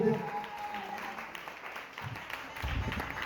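A church congregation at a French-language prayer service applauds and cheers for Jesus, a broad wash of clapping and voices filling a reverberant hall at moderate volume, swelling again near the end.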